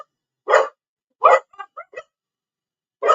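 A small terrier barks in short, separate yaps, three louder barks spread across a few seconds with a couple of softer yips between them, heard alone against silence.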